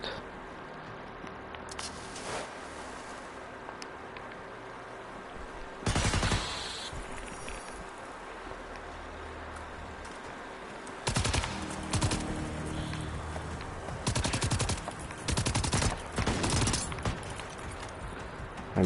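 Gunfire in the video game Generation Zero: several scattered bursts of shots at moderate loudness, some single and some in quick clusters, over a steady low background hum.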